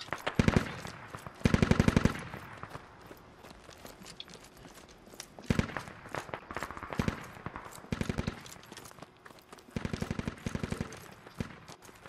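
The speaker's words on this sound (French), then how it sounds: "Il y a des tirs, je crois, par là-bas." Bursts of automatic gunfire from the Squad video game crackle in several separate volleys, some loud and close, others fainter and more distant, with quieter stretches between them.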